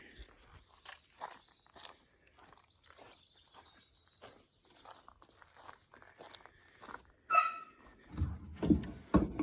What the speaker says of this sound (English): Dog's talking to me.